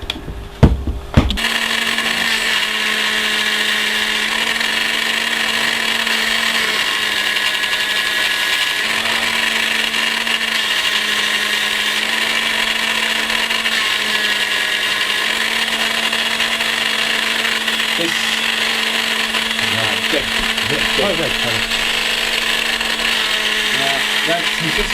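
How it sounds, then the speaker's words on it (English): Milling machine cutting a groove into a small model ship mast piece, a steady loud whine with a sustained hum that runs unbroken after a brief clatter at the start. "Now into the milling machine."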